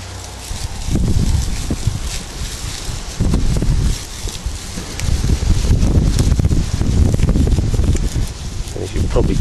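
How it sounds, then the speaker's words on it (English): Gusty wind blowing outdoors on a windy day, buffeting the microphone in loud, uneven surges with rustling noise throughout. "As you can probably tell, it's fairly windy today."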